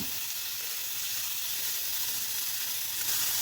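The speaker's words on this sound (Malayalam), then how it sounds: "എല്ലാം കൂടി ഇട്ട് കൊടുത്തൊന്ന് നമുക്ക് ഇളക്കി കൊടുക്കാം" Tomato, onion and kidney beans fry in a pan for a rajma curry, giving a steady, close sizzling hiss that holds evenly for a few seconds with faint stirring underneath.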